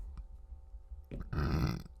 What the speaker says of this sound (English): I keep burping and it's annoying.